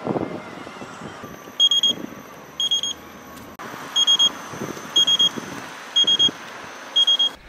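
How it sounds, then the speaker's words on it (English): High electronic low-battery beeps from a Kingsong KS18L electric unicycle sound in repeated short clusters, steady and insistent, over a continuous background whir and road noise. "I'm down to two dots and it's beeping all the time"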